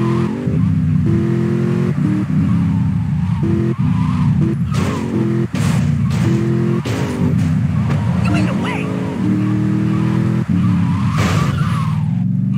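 A car driving in GTA Vice City, a steady engine drone with repeated tire skids and squeals throughout, and a voice talking over it.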